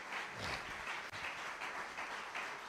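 A church congregation applauds in a steady, soft wash of clapping from many hands, sounding somewhat distant and continuous for a few seconds.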